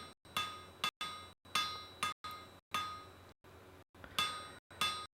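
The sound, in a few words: hammer forging a taper on an iron chain hook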